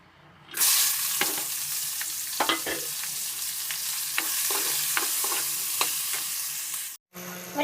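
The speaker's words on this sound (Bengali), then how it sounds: "এবার ওই তেলের মধ্যে হচ্ছে পেঁয়াজ, রসুন আর কাঁচা লঙ্কা আমি একটুখানি চিড়ে নিয়েছি যদি ফাটে।" Onion, garlic and slit green chillies fry in hot oil, a loud steady sizzle with scattered crackles and stirring clicks, close and continuous until it cuts off near the end.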